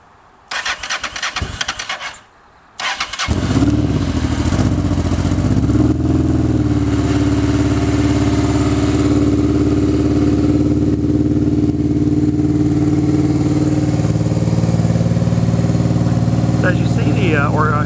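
A Honda Hawk GT motorcycle with a Super Trap exhaust is cranked cold on choke, catches after a brief stutter, and settles into a loud, steady, throaty idle close to the listener.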